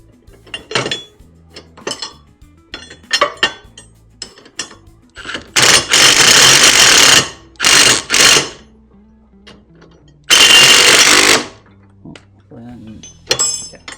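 A nylock nut is threaded by hand onto a bolt while a motorcycle jack hitch hauler is assembled, giving light metallic clinks and ratchety rattles in short bursts, with a few louder clattering stretches and quiet gaps.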